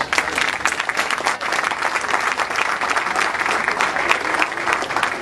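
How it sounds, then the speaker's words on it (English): An audience applauds after a speech on Nigeria's constitution, a dense and steady wash of clapping that is fairly loud and sustained throughout. "Applause, please."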